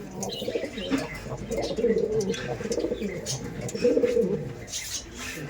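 Racing pigeons, a male and then a female, are released, cooing and fluttering close by in a busy, continuous stream of soft calls, with people talking in the background.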